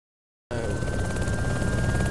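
After a moment of silence, a helicopter's whirring rotor noise in the video game Arma 2 kicks in abruptly and holds steady and close, with a thin whine riding over it.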